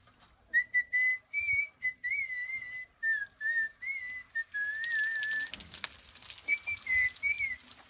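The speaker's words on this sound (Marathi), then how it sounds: "मी शिट्टीतलं मित्रांनो गाणं म्हणतो" A person whistles a melodic tune in clear, bright phrases with short pauses, close by; some rustling noise joins toward the end.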